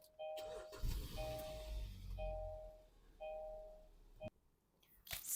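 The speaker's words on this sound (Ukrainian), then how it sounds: "Давайте заведемо авто." A 2016 Kia Sportage engine cranks and turns over amid repeated electronic warning chimes, then the engine runs briefly before cutting off.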